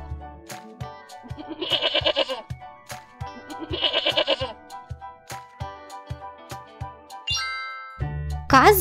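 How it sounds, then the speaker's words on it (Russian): A goat bleats twice in long wavering cries, with tinkling bell-like notes and light taps around them, and a short squeaky call near the end. "Коза."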